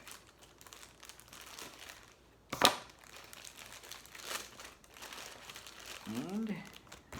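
Plastic packaging around a pair of sunglasses is cut open, giving scattered crinkling and crackling with one sharp snip or tear, heard close up amid faint background sound.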